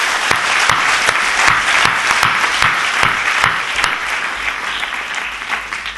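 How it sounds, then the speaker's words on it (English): Audience applause welcoming two debate teams at a debate event in India, steady sustained clapping from a crowd with distinct sharp individual claps up close, gradually easing off, no talk. "can we give them a big round of applause to encourage them?"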